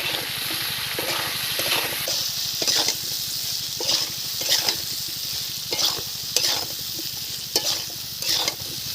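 Dry red chili, cumin seeds and bay leaf frying in hot oil for a cabbage dish, a steady close sizzle with repeated scraping stir strokes at a regular rhythm throughout.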